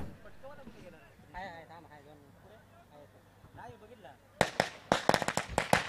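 Firecrackers burst in a rapid, loud string of sharp cracks to welcome chief guests at a village cricket tournament. An announcer talks over a public address system before the bursts begin.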